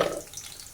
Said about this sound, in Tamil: பார்த்திங்கன்னா பூண்டு செவந்துருச்சு.